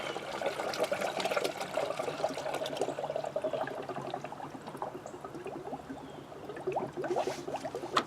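Water is poured into the coolant system of a 2003 Kia Sorento 3.5 EX with a leaky heater hose, a continuous gurgling, splashing trickle close by with bubbly glugs toward the end.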